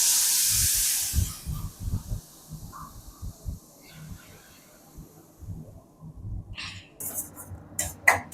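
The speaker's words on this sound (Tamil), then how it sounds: "நம்ம வந்து பலாப்பழத்தை அரைச்சிட்டு வந்ததை நெய் ஊற்றி வறுக்கணும்." Ground jackfruit paste hits hot ghee in a pan and gives a loud, hissing sizzle for about a second. It then fades to quiet pan sounds and scattered talking.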